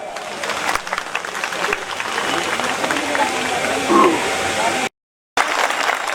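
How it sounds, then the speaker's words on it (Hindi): A rally crowd in the Giripar area near Renukaji, Nahan, claps in sustained, loud, dense applause that carries on for several seconds, with a short dropout to silence near the end before resuming. "आप लोगों की तालियां"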